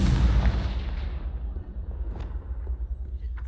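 A Confringo blasting spell in the Hogwarts Legacy video game goes off in a single deep, loud boom that rolls away and fades over a few seconds.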